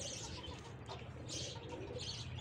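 Pigeons at a home loft on a hot day, with soft cooing and bursts of wing flapping close by over a steady low background hum.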